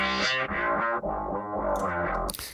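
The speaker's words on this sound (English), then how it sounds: "You kind of hear that wah effect going on." Wah effect from an Ableton Auto Filter envelope with heavy resonance, sweeping over a dense, distorted synth-heavy mix so the tone opens and closes with each hit, loud and continuous.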